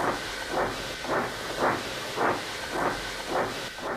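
A goods train arrives from Barrow with rhythmic steam hissing, regular chuffing bursts about every half second over a constant noisy hiss, close and fairly loud.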